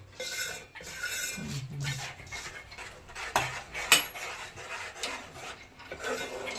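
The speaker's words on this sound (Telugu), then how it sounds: "కలుపుతూనే ఉండాలి, ఇంకా కలుపుతూనే ఉండాలి." A utensil stirs and scrapes Mysore pak mixture around a pan in uneven, rubbing strokes with occasional sharper metal clinks, close and fairly quiet, with no speech.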